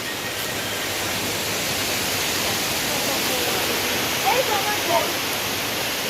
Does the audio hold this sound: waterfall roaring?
yes